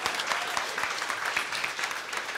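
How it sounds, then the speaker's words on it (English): A studio audience at a televised political panel show applauds and cheers as a Labour MP guest is introduced, dense steady clapping filling the room for a few seconds. "will you please give a warm cheer for a Labour MP for Wellington Central, Grant Robinson."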